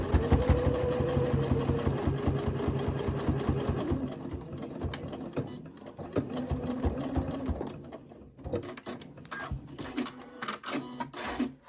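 A sewing machine stitches a small fidget toy pouch, running in close, loud mechanical bursts with a rapid rhythmic chatter that pauses and restarts several times.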